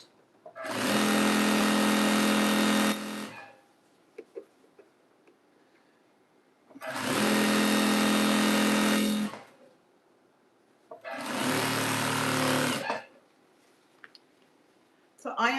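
A heavy semi-industrial sewing machine joining quilt strips for a jelly roll rug, running in three loud buzzing bursts of a few seconds each, separated by quiet pauses with faint handling sounds.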